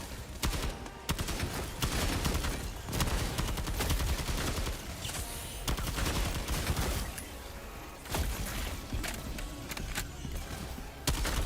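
Sustained automatic gunfire from a gun in the video game Helldivers 2, steady rapid shots continuing almost without a break at a fairly loud level, with brief gaps and little talk.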